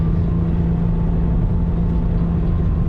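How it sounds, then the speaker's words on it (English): A 2020 Toyota 86 GTS with performance pack, its engine revving hard while driving: a steady, loud low engine drone with a constant hum, heard from inside the car, no talk. "You can hear that little engine screaming for mercy."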